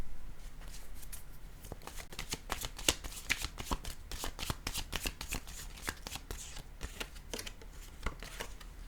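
A deck of playing cards is shuffled alone, giving a fast, steady run of crisp riffling clicks and flutters that continues without pause and without voices.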